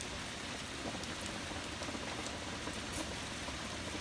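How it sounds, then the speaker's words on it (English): Steady rain drums on the ceiling overhead, a dense, even patter filling the space at moderate loudness throughout, with no voices. "You should be able to hear the rain"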